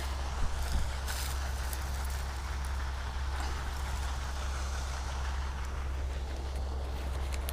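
A combine harvester threshing wind-flattened soybeans drones steadily throughout, with a constant broadband mechanical hum and rattle, working nearby.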